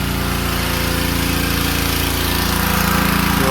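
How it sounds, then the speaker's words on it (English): A small power washer runs steadily close by during exterior house painting work, a continuous droning motor hum with a broad hiss of spray, loud and unbroken with no talking. "Little power washer we're using."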